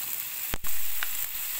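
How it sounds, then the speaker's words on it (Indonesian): Bay leaves and galangal frying in hot oil in a home kitchen, a steady close sizzle with a few soft clicks of stirring, no talking. "baru kita masukin daun salam. Terus sama lengkuas. Oke, dimasak dulu sampai harum."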